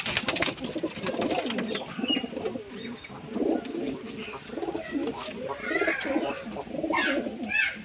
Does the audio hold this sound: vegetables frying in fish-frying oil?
no